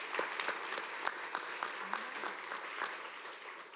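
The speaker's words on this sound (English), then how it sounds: "can we get a round of applause for all of our award winners" An audience applauds award winners at a preservation awards ceremony. The clapping is steady and fairly dense, with sharp individual claps standing out, and there is no talk over it.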